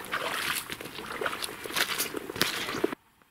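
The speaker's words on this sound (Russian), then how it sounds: "Я в тине по пояс увязаю." Someone wades waist-deep through thick silt and water on a duck hunt, producing continuous close sloshing, splashing and sucking mud sounds that stop abruptly at the end.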